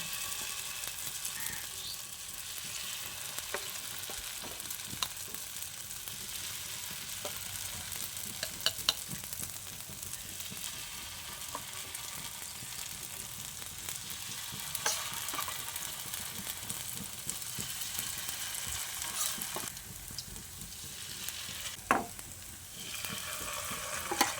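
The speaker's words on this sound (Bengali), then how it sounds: "ওই তেলের মধ্যে আবারও আমি বাকি বড়াগুলো ভেজে নিচ্ছি।" Potato batter fritters deep-fry in hot oil, a second batch, in a continuous close hiss of sizzling broken by occasional clicks and stirring taps, with no voices.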